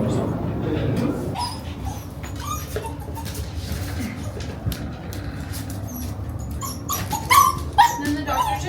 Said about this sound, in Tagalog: Nakakita ng isang aso dun.